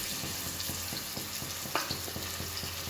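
Ingredients for goat lung gravy sauté in hot oil in a pan, a steady sizzle broken by regular stirring strokes roughly every third of a second, close up and alone.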